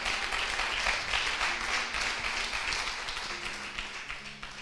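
A church congregation claps together during a sermon, a thick, even wash of applause that stays moderately loud and tapers slightly toward the end, with no speech on top.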